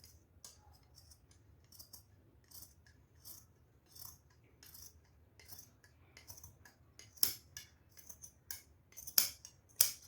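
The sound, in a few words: scissors cutting hosiery fabric for a body shaper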